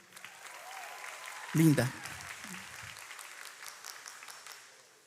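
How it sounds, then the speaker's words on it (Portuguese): Audience applause for a speaker's fiancée, a soft, fairly distant patter of clapping that runs steadily throughout, with a brief spoken word cutting in near the middle. "Uma salva de palmas para minha noiva."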